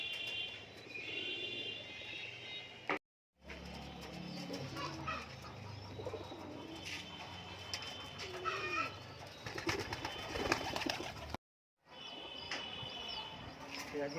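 Pigeons coo and murmur continuously inside a colour-matched pigeon loft, close and clear, with occasional rustling and someone talking over them.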